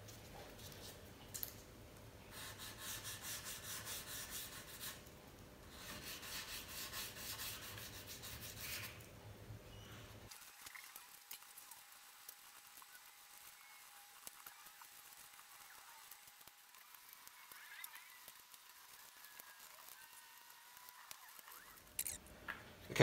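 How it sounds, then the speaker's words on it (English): A three-step nail buffer polishes the metal frets of a Fender American Pro Jaguar guitar, giving a soft, steady back-and-forth rubbing that is close and faint and keeps a quiet, even texture throughout. "I'm going to just use a three-step nail buffer to polish out these frets"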